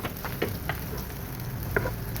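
Onion dropped into hot oil in a pan sizzles continuously at close range, with a few brief scraping and stirring clatters breaking through the steady hiss.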